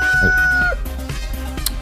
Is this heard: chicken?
yes